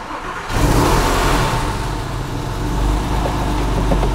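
A Porsche 911 of the 996 generation with about 214,000 km, unused for roughly a month, fires up and revs, giving a sudden loud engine burst that settles into a rough, rumbling idle with slight rises, recorded close to the car.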